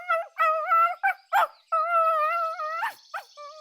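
A female dog whimpers and yips in a run of high, tonal whines broken by short sharp yelps. The sounds are close and fairly loud, with no other sounds around them.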